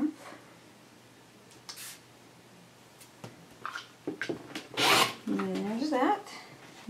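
Fabric pieces are cut for a stroller tote bag, with scattered raspy snips and rubbing scrapes close up and a short stretch of talking near the end.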